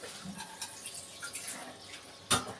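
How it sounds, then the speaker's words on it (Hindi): A little water poured into a pan of navratan shahi bhaji, an Indian vegetable dish, making soft splashing and dripping close by, with a sharper splash near the end. "ये आप देख सकते हैं कि ये हम पानी भी इसमें लगा रहे हैं थोड़ा सा।"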